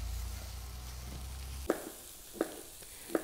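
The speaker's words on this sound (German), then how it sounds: "locker 3-4 Minuten jetzt bei hoher Hitze das Ganze mal richtig schön braten" Krakauer sausage and leek fry in a pan over high heat, giving a steady close sizzle, broken later by three sharp clacks of stirring against the pan.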